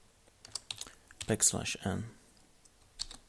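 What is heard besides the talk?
typing code on a computer keyboard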